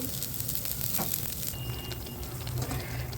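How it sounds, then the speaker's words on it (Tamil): Steady crackling sizzle of dosa batter hitting a hot pan, continuous and close, with a low hum underneath and no voices. "சூடாக தோசையும் ஊற்றியாச்சு"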